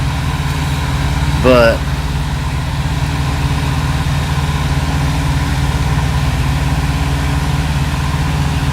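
A truck engine idles steadily and loudly throughout, a constant low rumble during a stop in Utah trucking; a brief voice cuts in near the start.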